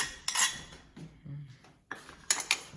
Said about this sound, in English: mixing up the butter, and you put it in the pan there.